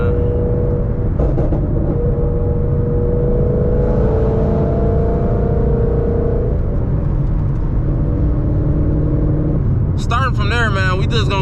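A 500-horsepower Mustang GT with a 5.0 engine rumbles loudly from inside the cabin, the engine note rising and falling through shifts, with someone talking near the end.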